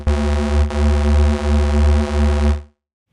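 Extremely detuned digital saw synth bass in Reason with wide unison spread, giving a warbling phasing modulation. One loud, dense sustained tone with a slow wobble, alone, then an abrupt stop.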